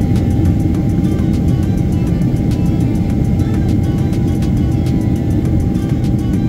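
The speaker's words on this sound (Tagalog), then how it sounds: "Hinihintay ko na lang lumipad yung eroplano guys kasi alam nyo na yung kasunod." Passenger airplane taking off, heard from inside the cabin: a loud, steady engine roar and rumble that holds throughout, with faint clicks and rattles over it and no talking.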